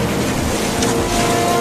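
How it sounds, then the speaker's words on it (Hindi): Floodwater rushes through a village as a loud, steady roar of churning water, broadband and continuous with no break for the whole stretch. "देखो पानी ज्यादा भर गया"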